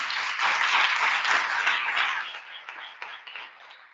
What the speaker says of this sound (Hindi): रब के जलाल के लिए जोरदार तालियां करें